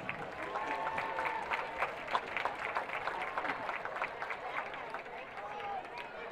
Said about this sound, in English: Give a round of applause for your freshman prince and princess.